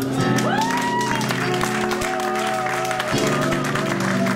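A church congregation applauds and cheers to acclaim God, a steady wash of clapping and crowd noise. A preacher's voice and sustained tones carry over it.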